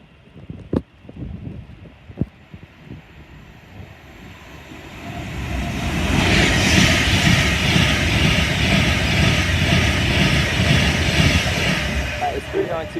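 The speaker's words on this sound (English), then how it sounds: "we've also got a pass-in service which is a 390 Pendolino on the service from Manchester Piccadilly." A Class 390 Pendolino passes through Watford Junction station at speed, building from a distant rumble to a loud, sustained roar with wind rush, followed by a few sharp clunks near the start.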